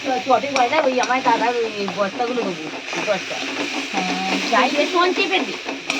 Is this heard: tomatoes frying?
yes